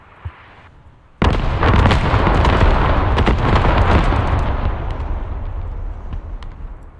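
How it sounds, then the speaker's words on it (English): Artillery strike explosions in the game Squad: after a small pop, a loud sudden blast opens a rolling series of overlapping booms and crackling impacts that slowly fade out over several seconds. "I'm currently on the UAV and I'm watching my beautiful artillery strike."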